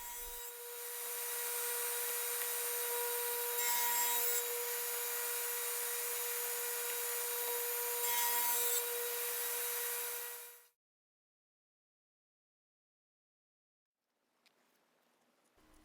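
A radial arm saw cuts spline slots through Ipe frames, a loud steady whine with two brief heavier bites as the blade passes through the hardwood, then it spins down to silence and a faint hum returns near the end.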